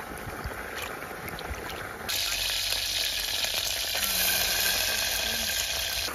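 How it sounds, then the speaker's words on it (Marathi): Clear water flowing steadily on a farm, a continuous broadband rush that grows louder and fuller partway through, with no talk over it. "पाण्याचा नुसता आवाज येतो."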